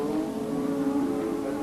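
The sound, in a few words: Williams Formula One car entering the pits, Kyalami 1985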